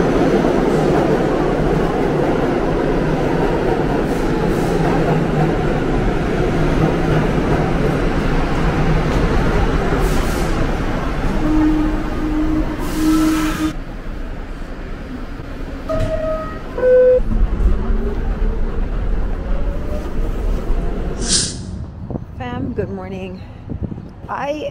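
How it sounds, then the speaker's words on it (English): Rail transport in New York City: a subway train rumbles into a station, its noise building and then rolling steadily, with squeals and clanks near the end as it slows, and someone talks in the background. "train's coming."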